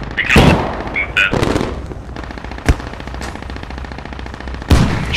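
Gunfire in the video game Squad, armour-piercing rounds fired at a tank: a few sharp, loud reports with bursts of shooting and crackling battle noise in between.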